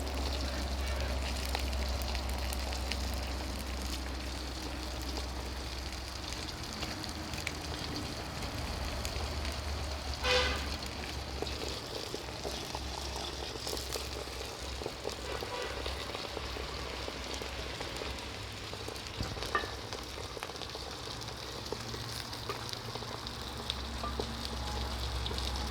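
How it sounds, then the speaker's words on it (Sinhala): Oil boiling hard in a pot and foaming up toward the rim gives a steady, dense bubbling hiss and crackle that runs unbroken from start to finish at moderate loudness. "ඇතුලෙන් ඒ තෙල් ටික හොඳින් නටනවා. මේ වෙලාවේ පෙන දදා කොම්බකල උඩට තෙල් ටික නටාගෙන එනවා."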